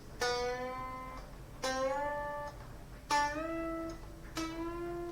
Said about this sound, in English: we are trying to play that major scale with string bends